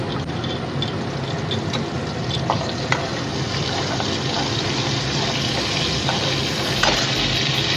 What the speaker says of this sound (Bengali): জিরে ফোড়ন দিচ্ছি